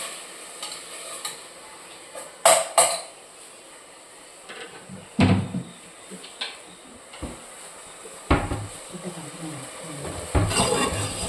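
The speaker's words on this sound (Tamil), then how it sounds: "பச்சை மிளகா போட்டுக்கிறேன், வதக்குறேன்." Green chillies sauté in a pan for veg biryani: a soft sizzle broken by several sharp, close spatula scrapes and clinks against the metal, spaced a few seconds apart.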